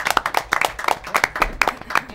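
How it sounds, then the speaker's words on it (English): Small group applause at a school board of education study session, a few hands clapping in a light, uneven patter close by, lasting only a couple of seconds. "one more round of applause for our CBRC"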